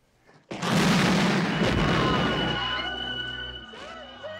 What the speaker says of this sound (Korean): 백화점에 큰 폭발이 일어나고 말고